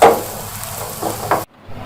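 Chopped onions and carrots sizzle in a frying pan for Guangzhou-style chow mein, a loud, close hiss with a couple of short clatters that cuts off abruptly near the end, leaving only faint noise.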